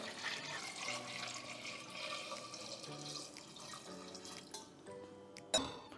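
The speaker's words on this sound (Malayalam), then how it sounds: "കുക്കറിൽ മുങ്ങിക്കിടക്കുന്ന രീതിയിൽ വെള്ളം ഒഴിച്ച് കൊടുക്കുക കേട്ടോ" Water pours and splashes into a pressure cooker holding washed palm tubers, a continuous close gurgling flow that thins near the end before a brief sharp clatter.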